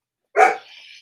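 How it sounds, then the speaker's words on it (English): A single short dog bark, close and loud, trailing off into a brief higher whine, alone in an otherwise quiet room. "That's my dog trying to say his say."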